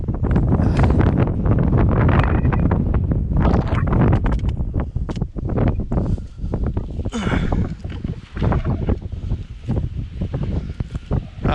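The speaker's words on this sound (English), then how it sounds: "Very windy." Strong, gusty wind on an open hillside in the Preseli Hills buffets the microphone in loud, continuous roaring bursts, rising and falling throughout with no other clear sounds.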